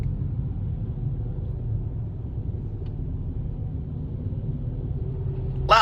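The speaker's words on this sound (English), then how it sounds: "Loud car." A loud car passes nearby, heard as a steady low rumble that stays level for several seconds, with a brief higher sound right at the end.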